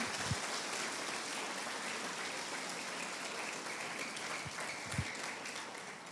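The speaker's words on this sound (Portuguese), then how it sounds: "Você pode aplaudir o Senhor?" A church congregation applauds during a sermon, a steady even wash of clapping filling the whole stretch at moderate distance, with a few low thumps standing out and no talk over it.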